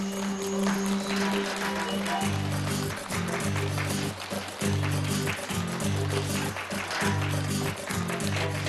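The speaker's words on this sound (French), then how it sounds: "Allez, applaudissements pour l'encourager." A studio audience on a French TV makeover show claps steadily, a dense and fairly loud spatter of applause with a music bed running beneath it.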